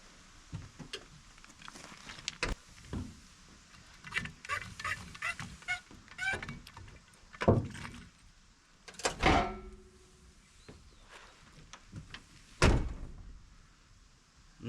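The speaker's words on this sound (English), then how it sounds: "which will push this latch pin over, allowing the door to close correctly" A door on a 1996 Ford F350 truck is shut and latched several times, each a close, solid thunk with a short rattle, spaced a few seconds apart with quiet between.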